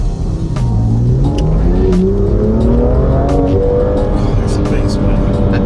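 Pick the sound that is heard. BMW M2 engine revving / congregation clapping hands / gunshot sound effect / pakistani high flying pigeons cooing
BMW M2 engine revving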